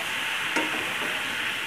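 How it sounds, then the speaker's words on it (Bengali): Masala for a traditional Bengali tiger prawn curry sizzles steadily in the pan while it is stirred continuously, with one brief scrape of the spoon standing out near the start. "ওই জন্যই মা কন্টিনিউ কষিয়ে যাচ্ছে।"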